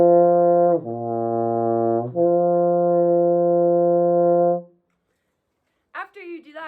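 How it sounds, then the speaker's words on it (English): A brass instrument plays a slow lip slur warmup, sustained tones of half-note and whole-note lengths slurring between two partials, loud and close, followed by a pause and then a brief bit of talking. "Here is a good lip slur."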